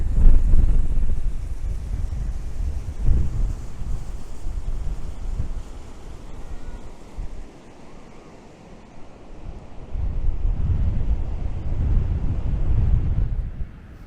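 Strong coastal wind buffets the microphone in rumbling gusts that ease briefly and then return, with a roaring outdoor wash beneath, at Ecola State Park on the Oregon coast.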